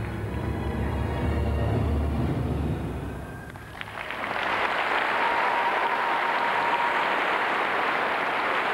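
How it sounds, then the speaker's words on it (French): An arena audience at a 2004 European gymnastics championship in Cottbus applauds a floor routine, the sustained clapping swelling loudly after a brief lull and continuing dense and full for several seconds. "Un public de connaisseurs qui applaudit comme il se doit"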